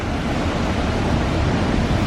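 At Inchavara waterfall the water rushes and splashes in a loud, steady roar that stays broad and unbroken throughout, with no voices over it.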